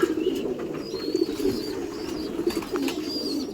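Several pigeons on a wet rooftop keep up a continuous low cooing, overlapping throaty calls with faint higher chirps above, close and moderately loud with no talking.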